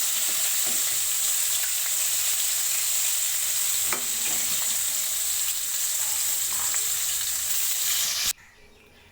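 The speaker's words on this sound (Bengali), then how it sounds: "চিকেন ফ্রাইগুলোই ভাজা হয়ে গেছে, এখন আমি উঠিয়ে নিচ্ছি" Chicken pieces sizzle steadily in hot oil, a constant crackling hiss with occasional clinks of a utensil, before the sizzle suddenly cuts off near the end.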